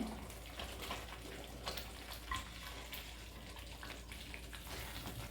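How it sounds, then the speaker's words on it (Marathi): Water is poured into a simmering shahi paneer gravy, making a continuous, fairly quiet rushing and bubbling wash with no talk. "पनीर घातल्यानंतर थोडं पाणी पण घालायचं आहे"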